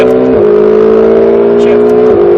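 Ferrari 488 GTB engine revving hard under throttle on a track, a loud sustained rising tone with two quick dips where gears shift, close and steady throughout.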